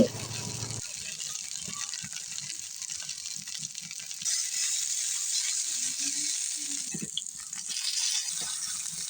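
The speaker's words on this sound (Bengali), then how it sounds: "আমার কড়াইটা গরম হয়ে গেছে আগেই তেল দিয়ে রাখছিলাম আর এখন আমি একটা একটা করে কড়াইয়ের মধ্যে আলুগুলো দিয়ে দিচ্ছি" Potatoes dropped into hot oil in a karahi sizzle and crackle steadily, the frying growing louder partway through, with a few light clinks of utensils and no talk.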